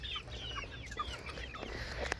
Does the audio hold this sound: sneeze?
no